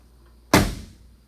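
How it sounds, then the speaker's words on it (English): A single solid door slam on a 1965 Corvette, a sharp close thunk that decays within half a second, heard alone against quiet surroundings. "I'm going to show you closing the doors."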